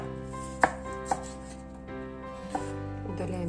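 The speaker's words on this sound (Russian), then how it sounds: "Помидоры для этого салата режем" A knife chops tomatoes into large wedges on a board for a summer salad: three distinct firm knocks spaced apart, close and clear over a low steady hum, with no talk.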